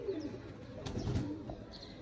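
Soft cooing of Sialkoti pigeons in the background with faint chirps, steady low murmur throughout, no talking.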